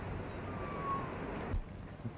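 A small cat or kitten in a 1935 western film gives a faint meow over a hissy, low-level background.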